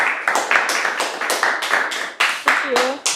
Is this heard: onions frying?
no